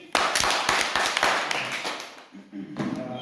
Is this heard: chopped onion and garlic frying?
no